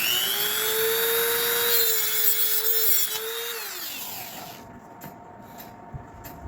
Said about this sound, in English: Now I'm going to cut off my pivot stock here.